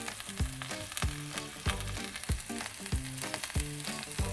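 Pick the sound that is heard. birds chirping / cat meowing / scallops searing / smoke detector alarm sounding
scallops searing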